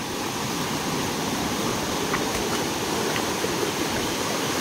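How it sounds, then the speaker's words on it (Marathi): Constant rushing of water flowing across a farm field flooded by heavy overnight rain, a dense, even roar with no voices. "हा इथून खालून पण पाणी येतो आहे"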